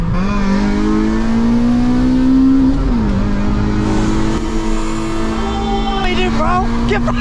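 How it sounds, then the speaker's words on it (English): A car engine revs loud and close, its pitch climbing and dipping as the throttle changes, with voices and cabin noise mixed in. "we need to keep the revs going because that Audi wants to take me"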